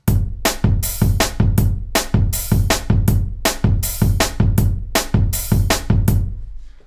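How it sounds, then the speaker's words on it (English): Programmed drum pattern built in FL Studio as a replica of the beat from a song: steady, loud kick and sharp snare or clap hits repeating in a tight, even groove, with no bass or keys and no voices. "I just focused my replication on the drum sounds."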